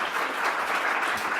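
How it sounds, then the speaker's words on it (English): Audience applause for a panel at a child privacy conference, a steady, dense burst of clapping from a seated crowd with no talking over it. "If I can have a round of applause for our panelists."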